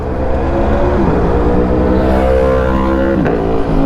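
A loud, close Aprilia Tuono 1100 V4 motorcycle engine revving steadily, its pitch rising and dipping with throttle blips, with no talking.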